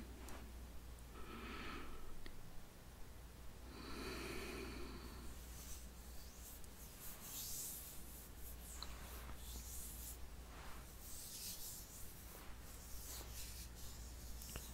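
Slow, soft breathing in and out during a belly massage, a few close, airy breaths sitting over faint skin rubbing and a low steady hum, with no talking.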